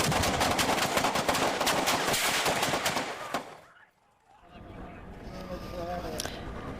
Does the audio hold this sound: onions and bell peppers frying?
no